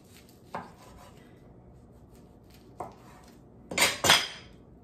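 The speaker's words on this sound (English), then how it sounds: "we're gonna slice our roll into pieces" Knife cutting a kid-friendly sushi roll into pieces: two light taps on the board, then a louder double chop and scrape near the end, over quiet room noise.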